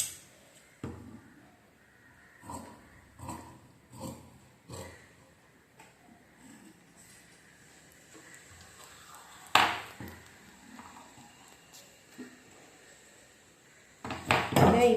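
Scissors cutting the front side of a princess-cut saree blouse fabric, a series of soft, spaced snips and fabric rustles close by, ending with a louder clatter.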